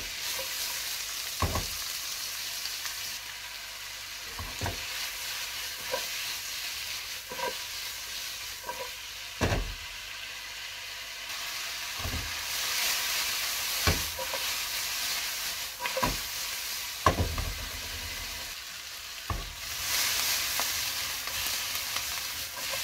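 Onions frying in oil in a pan, a steady sizzling hiss running throughout with occasional sharper stirring clicks and knocks at irregular intervals, no voices.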